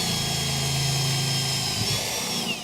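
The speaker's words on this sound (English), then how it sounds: "try and drill that hole right on the inside of the circle" A power drill bores a hole through the plastic sidewall of a tank with a steady, close whine that keeps going, then winds down near the end.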